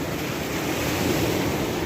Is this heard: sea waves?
yes